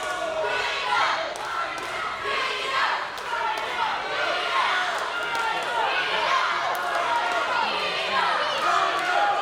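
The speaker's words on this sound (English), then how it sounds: "As the crowd trying to rally" Crowd at a VCW pro wrestling show between two wrestlers, a loud roar of voices with scattered shouts and occasional thuds from the ring, sustained for roughly nine seconds.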